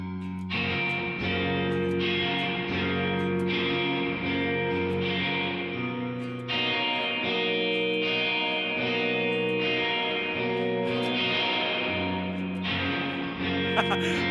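Electric guitar run through heavy reverb and delay, sustained washed-out chords ringing and smearing into each other, loud and continuous, changing chords every few seconds with echoes trailing behind.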